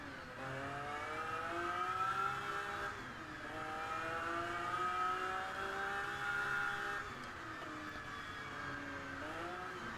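Pagani Zonda engine in the racing video game Test Drive Unlimited Platinum, revving and shifting through gears with a steady rising whine and a whirring note, loud and continuous with no talk.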